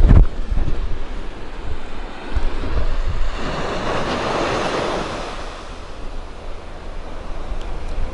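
Big ocean surf rolls and crashes steadily at St. Maarten during Hurricane Jerry, a broad continuous roar of breaking waves with some wind buffeting the microphone.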